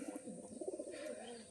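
Pigeons kept on a small farm coo softly in a quick series of throaty, rolling calls, fairly near but quiet, with no talking.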